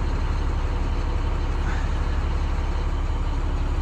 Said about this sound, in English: Sounds great, no issues with the engine.